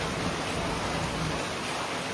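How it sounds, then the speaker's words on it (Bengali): Rain falls steadily near the sea at a beach in Gopalpur, Odisha, a dense, even hiss of drops with no other sounds standing out. "বৃষ্টি পড়ছে"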